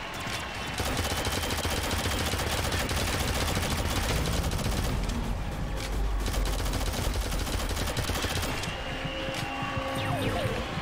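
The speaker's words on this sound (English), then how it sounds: "Freaking sentry gun, man." Automated sentry gun in the Shadowgun Legends team PvP shooter fires dense, continuous rapid bursts, loud and close, mixed with other game gunfire and effects, with no voices.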